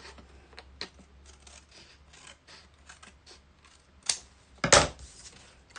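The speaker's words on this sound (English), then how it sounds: "Trim it down. You can use a pair of scissors or your paper cutter." Paper strip for a craft pocket being trimmed with scissors or a paper cutter, faint snips scattered through near silence, then two louder sharp cuts close together toward the end.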